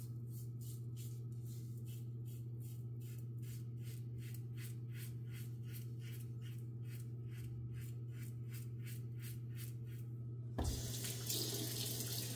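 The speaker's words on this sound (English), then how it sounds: "Rinse is super easy." Water runs into a sink as a shaver head full of whiskers is rinsed under the tap, a low steady flow with a rhythmic pulsing wash, then a louder splashing gush near the end.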